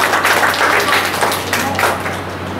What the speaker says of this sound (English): So one clap for our non-teaching staffs and cameraman.